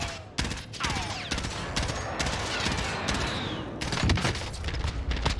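A CARV.2 tactical rifle fires in Warzone, bursts of sharp rapid shots in several runs separated by short pauses, with explosions and game effects mixed underneath.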